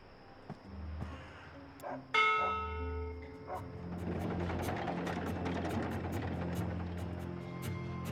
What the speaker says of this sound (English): this is a ship's bell